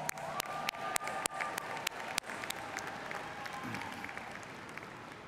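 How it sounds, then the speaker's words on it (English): An audience at a college commencement ceremony applauds, a steady wash of clapping with a few sharp, close claps standing out, fading slightly toward the end. "let's give them all a round of applause."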